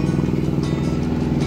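Sailboat engine running while the boat motors with both sails up, a steady loud low drone throughout the short stretch.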